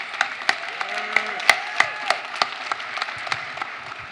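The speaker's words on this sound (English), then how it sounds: "Can we give them a round of applause?" Scattered applause from a film festival panel audience, with sharp individual claps ringing out over a low murmur rather than a dense ovation, steady for about four seconds.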